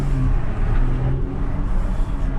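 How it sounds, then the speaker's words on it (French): A Porsche Cayenne Coupe Hybrid in sport mode with its exhaust valves open gives a loud, steady throaty rumble close by, swelling slightly then settling, with no talking over it. "Et là vous entendez la voiture avec une belle sonorité du coup."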